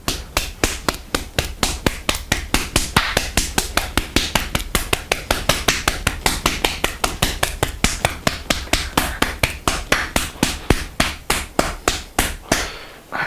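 Honey massage: hands pat down on skin and lift sharply off it, making a fast, even series of loud, close sticky smacks repeating about four times a second without a break.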